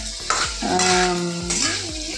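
Bengali five-spice seeds with bay leaf frying in hot oil in a pan, a loud close sizzle with clinks of utensils and a low tonal hum running through the middle, no voices.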